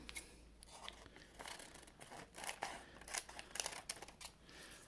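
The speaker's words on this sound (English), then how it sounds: "I cut each of the other ones. I cut them in half again." Scissors snip through paper while Valentine's cards are cut from it, producing quiet, close, irregular crisp cuts and rustles spread across a few seconds with no talking.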